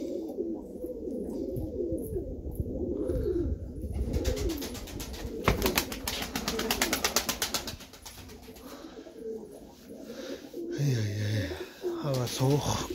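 Tumbler pigeons coo in their coop with repeated rolling calls, joined midway by a burst of fluttering wings and a few deeper coos toward the end.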